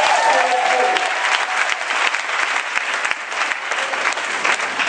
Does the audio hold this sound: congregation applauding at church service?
yes